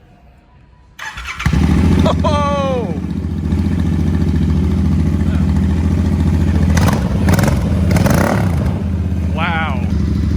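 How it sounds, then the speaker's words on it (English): A Royal Enfield Continental GT motorcycle with a custom exhaust cranks with a whirring starter, fires up and settles into a loud, close, thumping idle. It gives a couple of blips of revving while a man briefly exclaims. "Enfield Continental GT. Looks like we got custom exhaust. Let's hear it."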